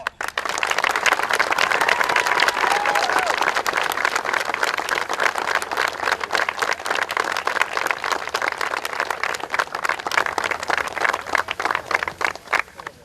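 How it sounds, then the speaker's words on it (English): A round of applause at an NFL grassroots grant presentation after a commemorative check is handed over: a crowd claps steadily and fairly loudly, thinning toward the end. "Let's give him a nice round of applause."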